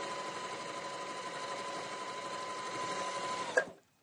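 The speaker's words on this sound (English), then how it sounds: "So through the 8 ply denim with no trouble, to the cotton, to the stretchy material." Janome HD5000 heavy duty sewing machine stitching stretch material, a steady close mechanical whirr running continuously for several seconds before a brief clack as it stops, leaving silence.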